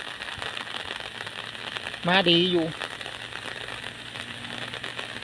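Steady rain falls during a storm, a constant soft hiss throughout, with a brief spoken phrase breaking in midway.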